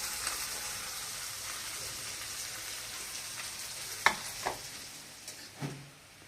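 Ground masala sizzles with onions in a pan for Bengali-style rohu fish curry, a steady hiss broken by a few sharp scraping clicks of a spoon near the end, no voices.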